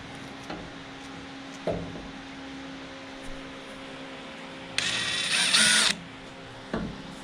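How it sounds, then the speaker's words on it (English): On the floor of a 1967 Chevrolet C10 truck, a drill with a 1/4-inch bit whirs in one loud burst of about a second, with a few brief mechanical clunks and knocks around it in a quiet garage. "So just using a 1/4-inch drill bit."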